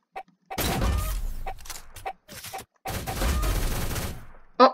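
Gunfire in a shooting video game: bursts of rapid shots in two long volleys with short isolated cracks between them, loud and close, with no talking.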